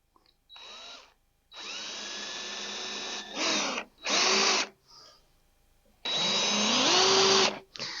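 Power drill boring holes through a hub and adapter with a dull bit, in several loud bursts of whirring motor and cutting, separated by short pauses, close by and alone.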